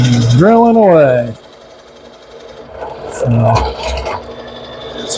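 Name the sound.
drill drilling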